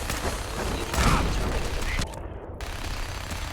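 Automated turrets firing in the video game Fallout 4, a dense continuous rattle of rapid gunfire with heavier bursts mixed in, loud and close, with no clear talking.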